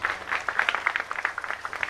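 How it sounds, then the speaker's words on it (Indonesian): Steady applause from an audience at an Islamic sermon in Indonesia, many hands clapping in a dense, continuous patter at moderate volume, with no talking. "Tepuk tangan buat guru dong."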